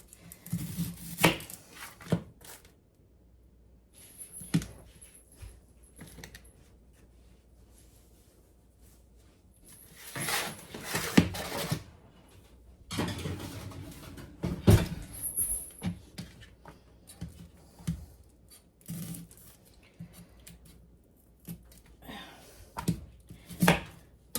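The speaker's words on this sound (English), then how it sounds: "the last thing that we need is some thinly sliced red onion" A knife thinly slices a red onion on a cutting board in quick bursts of crisp chopping strokes, close and fairly loud, with quieter pauses and handling noises between runs.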